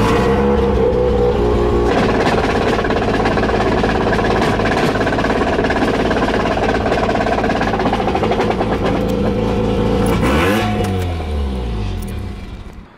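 A Mazda RX-7 drift car drives hard as its transmission breaks, a loud continuous engine drone with rising revs, then an abrupt drop and sliding pitch toward the end as the drivetrain gives out.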